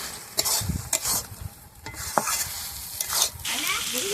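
Nearby stirring of a fairly dry loitta fish curry with bottle gourd stems and meat masala in a pan: loud, irregular spatula scrapes and knocks over a continuous sizzle, no voices.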